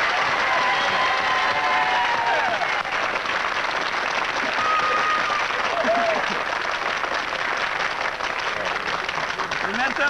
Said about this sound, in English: And you, the public, have saved the day by applauding